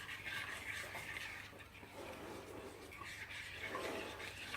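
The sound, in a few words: stirring chocolate ganache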